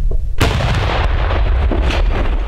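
Gunfire from Ukrainian Right Sector volunteers defending the village of Pisky near Donetsk airport: a loud close blast opens a dense, rumbling barrage of shots and booms that carries on without pause, with no voices.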